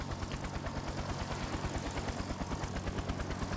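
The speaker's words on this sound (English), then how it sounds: "So we'll continue to move our helicopters," Helicopters fly in the naval war video game Naval War: Arctic Circle, their rotors making a steady, rapid, low chopping pulse at a moderate, even level.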